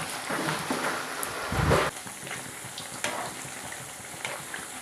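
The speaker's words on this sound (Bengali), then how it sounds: "এই ভাজছি।" Potato chops (aloo chop) deep-frying in hot oil, a dense, steady sizzle throughout with a brief louder bubbling surge midway and no voices.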